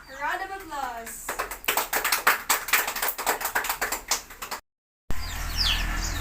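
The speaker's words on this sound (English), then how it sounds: "let's give a round of applause" Students in a classroom give a round of applause, a few seconds of rapid, fairly close clapping after a brief voice, then a short gap and muffled room noise.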